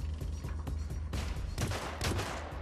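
Pistol shots during a shooting contest in the Hitman Absolution video game, several sharp close reports fired in quick uneven succession over a low droning background.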